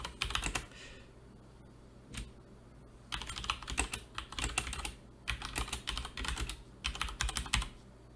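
Bursts of quick typing on a computer keyboard, close and clear, with short pauses between runs of keystrokes in a quiet room.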